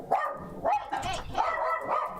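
Dogs barking indoors in a quick run of sharp, repeated yaps and barks at close range, loud and with no talking.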